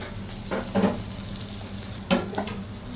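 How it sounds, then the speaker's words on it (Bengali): Potatoes frying lightly in a pan, a steady soft sizzle with a couple of brief stirring scrapes, close and alone. "হালকা আলু জাস্ট এটাকে কিন্তু হালকা হালকা করে জাস্ট ভেজে নেব"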